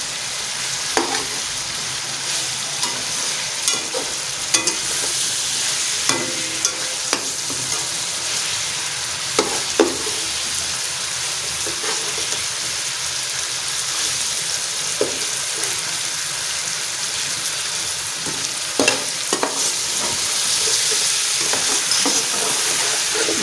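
Rice sizzling in ghee in a pan for chicken pulao, with a steady loud frying hiss and repeated scraping clinks of a spoon stirring throughout.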